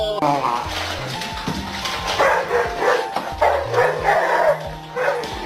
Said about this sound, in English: My deaf dog thinks she's barking.